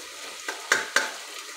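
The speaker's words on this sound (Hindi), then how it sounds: "फिर हम प्याज डाल रहे हैं इसमें। इसे हमें 5 मिनट तक भूनना है।" Onions fry in a pan for khichdi, a soft steady sizzle broken by three quick spoon clicks in close succession, brief and close with no voices.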